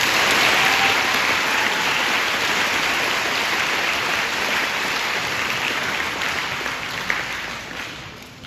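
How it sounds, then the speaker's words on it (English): Sustained applause from an audience at a school Veterans Day program, a dense, steady clatter of clapping hands that holds evenly for several seconds and fades slightly toward the end. "Let's hear a round of applause for our ladies."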